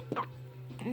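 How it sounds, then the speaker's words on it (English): A baby boy hiccups softly a couple of times in close succession, quiet and near, with a voice speaking around the short sounds. "Good little baby boy with hiccups"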